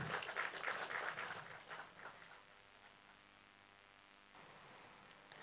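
Audience applause for a panelist at a tech conference, loud broadband clapping that tapers off over a few seconds into a quiet room.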